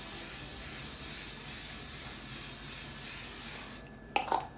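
Hairspray from an aerosol can sprayed onto a face: a steady, close, continuous hiss lasting several seconds, stopping abruptly near the end, followed by a couple of soft handling rustles.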